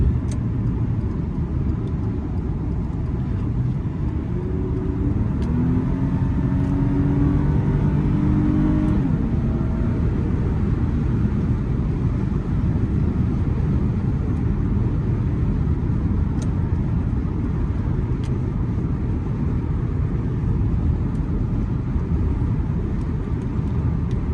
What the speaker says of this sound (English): And that V6 sounds amazing. Love this engine.